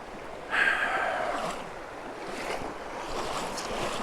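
A fast, high current on the Upper Rappahannock River rushes in a broad, steady hiss, surging louder at the start and again later, close and without talk.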